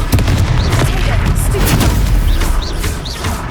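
Confringo fire spell blasts in the Hogwarts Legacy video game, loud booming explosive bursts over a dense battle din, with a character's voice shouting over the noise.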